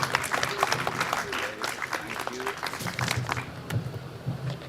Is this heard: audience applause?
yes